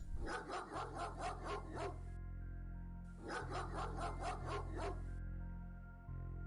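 A dog in the X-Com Files video game gives two quick bursts of rapid, repeated barks separated by a pause, loud and close over a steady low game hum, with no talking.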